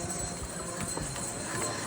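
Horse hooves clip-clop on the mountain pilgrimage path from Katra to the Vaishno Devi Bhawan, steady, fairly faint steps under a busy outdoor hum of people and movement.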